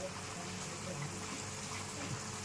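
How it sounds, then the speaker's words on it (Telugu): Water simmers in a covered pot while fish curry cooks, giving a quiet, steady bubbling hiss that runs evenly throughout with no talking. "ఇదిగోండి వాటర్ మరుగుతున్నాయి."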